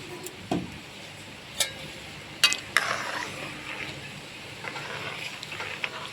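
Masoor lentil dal with broad beans is stirred in a cooking pot, with a few sharp spoon clinks against the metal over a quiet, steady bubbling simmer.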